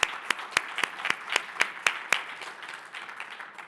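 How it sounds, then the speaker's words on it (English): An audience at a space forum ceremony applauds with sharp, evenly spaced claps that stand out clearly for about two seconds, then fade into softer scattered clapping in a large room. "Let's have another round of applause."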